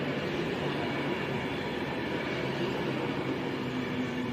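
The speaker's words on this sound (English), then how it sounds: "there is 807-003 coming in to take us up to Rugby" Avanti Class 807 train arriving at a station, a steady rolling rumble of wheels and carriages with a faint metallic squeal, continuous and moderately close, with no voices.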